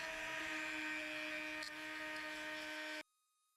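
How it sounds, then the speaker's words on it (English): A Dremel rotary tool fitted with a wire brush scrubs a rusty old lantern's burner plate, a close, steady high-pitched whine that runs for about three seconds and then abruptly stops. "use this wire Dremel tool"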